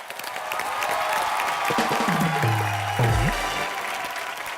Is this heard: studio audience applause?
yes